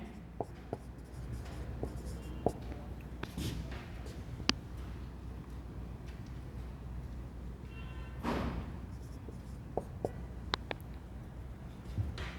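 Chalk or a marker taps and strokes on a board during a physics lesson on vector components, with scattered sharp knocks and scratchy strokes that come and go amid a quiet room.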